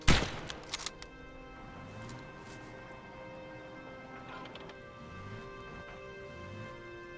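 A gunshot in the Gates of Hell war game, one loud sharp crack right at the start with brief echoing reports, then quieter distant battlefield sounds.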